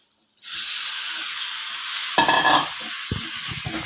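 Squid stirred through masala in a hot pan for a Kerala-style roast, a steady loud sizzle with scraping stirs and a few utensil knocks near the end, no talking.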